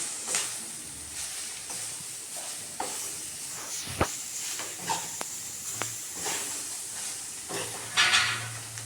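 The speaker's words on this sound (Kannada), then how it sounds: "ಈಗ ಬೀಟ್ರೂಟನ್ನು ತುರಿದಿರೋ ಬೀಟ್ರೂಟ್ ಹಾಕಿ ಮಿಕ್ಸ್ ಮಾಡ್ತಾ ಇದ್ದಾಳೆ ಇವಾಗ" Grated beetroot is stirred in a hot pan while cooking a beetroot palya, giving a soft sizzling hiss broken by scattered scraping and clinking strokes of a spoon against the pan.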